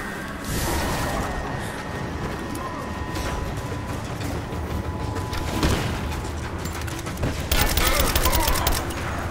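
Gunfire in Rise of the Tomb Raider: scattered shots and impacts over busy game noise, ending in a rapid burst of loud repeated shots near the end, with a voice briefly heard.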